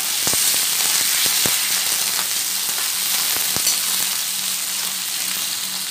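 Chopped onions tossed into hot oil while cooking paneer and soya chunk biryani, a loud, dense hiss of frying with scattered sharp crackles, close and continuous.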